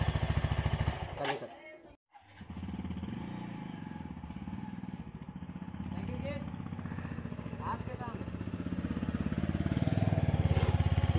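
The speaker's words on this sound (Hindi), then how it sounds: "चलो मैं इसे सेकंड गियर के टाइम पर दिखाता हूँ।" A TVS Apache RTR 160 4V BS6 motorcycle riding in second gear, its steady buzzing engine drone continuous and close, briefly dipping around two seconds and then rising slightly toward the end, with wind noise throughout.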